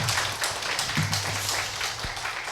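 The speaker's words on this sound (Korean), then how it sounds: "오순희 교수님께 다시 한번 큰 격려의 박수 부탁드립니다" An audience at a lecture on Goethe's life and literature applauds Professor Oh Soon-hee of Seoul National University, a steady, moderately loud wash of clapping that continues evenly throughout, with faint low thumps beneath.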